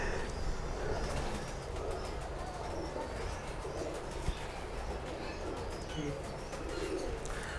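Pigeons coo continuously in a loft among fancy flying birds, a low rolling murmur that fills the background, with a few faint chirps and light wing movement and no clear talk.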